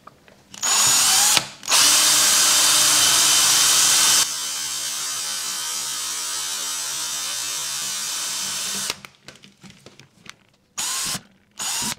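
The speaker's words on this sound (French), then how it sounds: "je refore tout le plastique. Avec une mèche de 2 pour commencer" Power drill re-boring plastic with a 2 mm bit, running in loud, steady whirring bursts with a brief pause early on, then a softer sustained spin before stopping in short stuttering pulses near the end.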